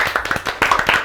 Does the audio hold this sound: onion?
no